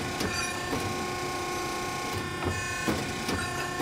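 A Piranha ironworker machine runs under foot-pedal control, giving a steady mechanical hum broken by a handful of sharp clunks and ratchety clicks at uneven intervals, close and fairly loud with no talking.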